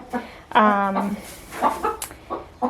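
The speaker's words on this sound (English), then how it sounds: "So yeah, 2 more broody hens it looks like." A broody hen on a farm clucks and makes a drawn-out, quavering call, with a few shorter clucks following nearby at moderate volume.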